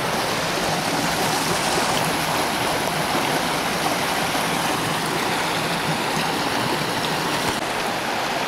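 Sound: river stream flowing

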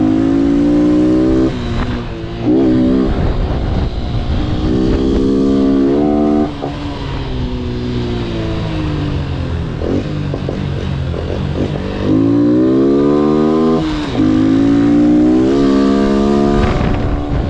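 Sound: Honda Wave S motorcycle accelerating

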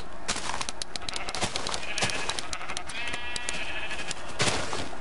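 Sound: sheep bleating in a Minecraft-style video game

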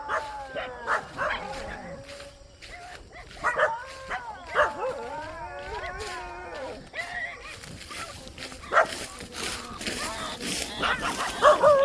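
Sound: puppy yelping while bitten by fox

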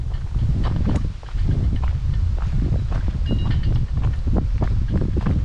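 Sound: strong wind at an abandoned rural village

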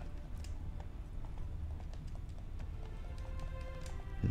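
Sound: horse hooves in The Witcher 3 video game

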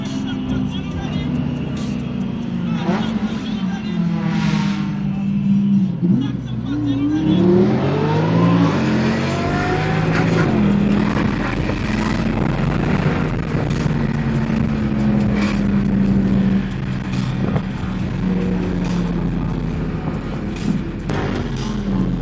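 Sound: sports car engine revving through exhaust

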